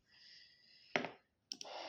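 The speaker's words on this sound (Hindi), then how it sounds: "लॉगिन पर क्लिक किया हमने" Mouse clicks on a website login button, a sharp click and then a quicker double click, set against a faint steady computer hum.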